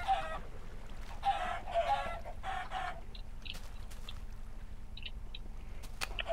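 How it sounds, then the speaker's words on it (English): Chickens cluck in a Minecraft automatic chicken farm video game, several short bursts of clucking early on, then quieter scattered clicks and small sounds over a low steady hum. "if you want cooked chicken, you pull this lever, which lets the chickens walk out and go along"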